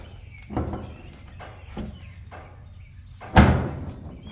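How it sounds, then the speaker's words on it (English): Door on a twin-turbo Plymouth Cuda being closed during a door bar fitting: a few light knocks and handling sounds lead up to one sharp, loud slam near the end, close up and without talk. "first I need to shut this door and see if it clears the door panel"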